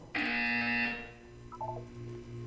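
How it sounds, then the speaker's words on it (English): Test chamber buzzer from the video game Portal 2: a single loud, harsh electronic buzz lasting under a second, followed by faint softer electronic blips over a low steady hum. "You will hear a buzzer."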